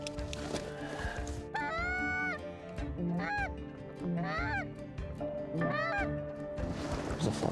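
A flock of geese honking during a late-season goose hunt: repeated nasal honks in short bursts, some near and some farther off, over steady outdoor background noise.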